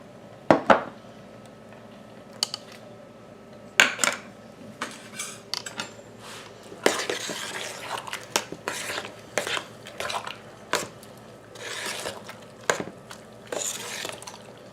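Tomatillo salsa with fresh lemon juice being stirred in a pot, scattered clinks and scrapes of a spoon against the pot over a faint wet, dripping background, irregular bursts close by.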